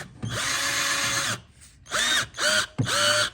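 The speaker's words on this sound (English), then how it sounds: "we're gonna chuck a Q-tip in the drill" Power drill spinning a Q-tip to clean the very dirty carburetor of a 2014 Troy Bilt 190cc pressure washer, whirring up loudly in one long burst and then three short bursts, close and alone.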